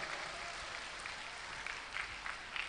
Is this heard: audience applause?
yes